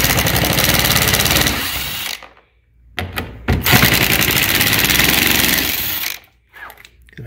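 A power driver backing out Torx T30 and T40 bolts from a car floor during a parking brake fix, loud whirring and rattling runs of several seconds broken by a short pause and brief stop-start bursts.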